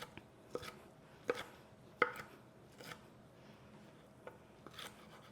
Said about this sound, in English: I'm just going to slice them through into bite-sized pieces